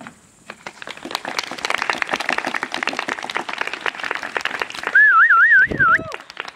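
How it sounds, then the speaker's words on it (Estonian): Applause for theatre director Mari: a scattered round of hand claps builds and holds for several seconds, then gives way to a loud warbling whistle and a short voice at the end. "Ja aplaus lavastajale Marile!"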